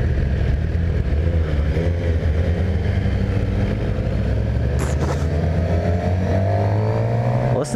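A 2018 Suzuki GSX-R750 sport bike accelerates, its engine pitch climbing steadily in a loud, continuous howl heard up close as the revs rise through the gear.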